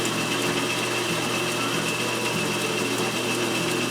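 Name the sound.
reamer cutting a hole on a round column milling machine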